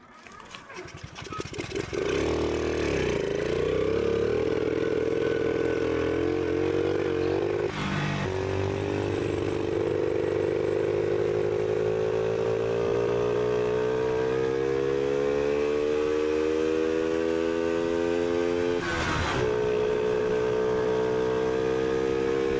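A stunt moped's small engine runs continuously and fairly loud while fuel is still leaking, its pitch climbing gradually as it revs. Faint voices come in briefly.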